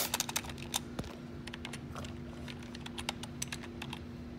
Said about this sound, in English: then type in my username